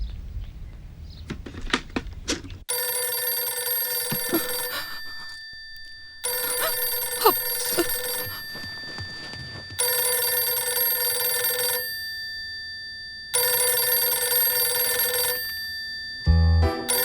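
A telephone rings in loud repeated bursts, each trill lasting about two seconds with short silent gaps between, close and clear with no talking over it.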